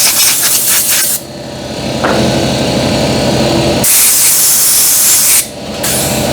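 A hard water spray hisses loudly and steadily as it rinses a restored quick-lock vise, the jet cutting off briefly and resuming in a few long blasts.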